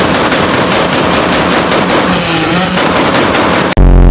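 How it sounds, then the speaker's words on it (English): A 1992 to 1995 Honda Civic sedan's exhaust fires off a dense, very loud, rapid string of gunshot-like pops and crackles that runs continuously, like machine-gun fire, then cuts off abruptly near the end. "These are the top 5 cars with gunshot exhaust sounds."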